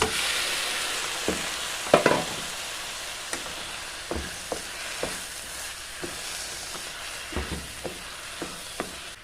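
A bulgur and brown rice mix is stirred with spices in a pot, giving a soft ongoing sizzle under a string of distinct spoon scrapes and knocks at an uneven pace. It sounds close, with no talking.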